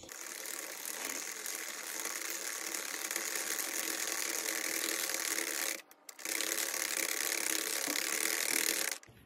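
A Sentro 40-needle knitting machine is cranked steadily around, giving a continuous close ratcheting clatter of needles and gears with a brief pause near the end before the cranking resumes.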